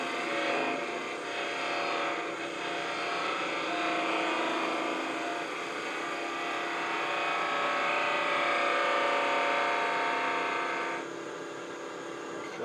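Wood lathe with a gouge cutting a turned wood elephant carving: a steady, loud broadband whirring hiss of tool on spinning wood, continuous for most of the span, easing slightly near the end.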